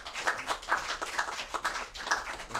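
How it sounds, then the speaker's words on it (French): Scattered applause from a small audience for the president at a Cheikh Anta Diop Day event, individual claps distinct and fairly close, moderately quiet with an uneven rhythm. "un applaudissement pour le président"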